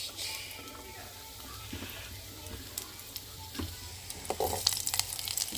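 Beetroot pieces fry in hot ghee and oil with a continuous close sizzle and crackle and occasional stirring scrapes, growing a little louder toward the end.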